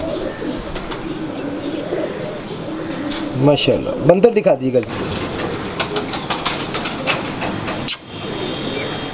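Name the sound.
pigeons cooing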